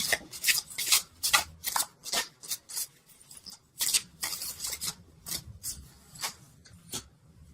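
Tarot cards from a Noah Nafu deck are shuffled and slid against one another in a rapid series of crisp, papery rasps and flicks, close by with no talking.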